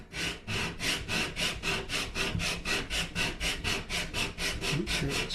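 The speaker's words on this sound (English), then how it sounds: "Sanding block here." A sanding block rubs back and forth over a wooden guitar neck scarf joint in steady, evenly paced strokes, about twenty close, loud rasping passes with no talking.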